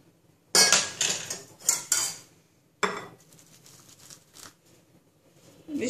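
A spoon stirs oats and milk in a bowl, with loud, close clinks and scrapes of metal against the dish in quick bursts, a pause, then softer rattling strokes.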